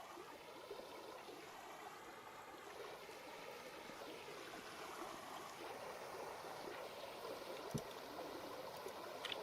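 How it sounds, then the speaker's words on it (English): Running water in the survival game Vintage Story, a faint steady trickling stream murmur that continues alone without pause, with one soft click near the end. "with the running water sounds, it kind of does feel like I'm in Japan right now"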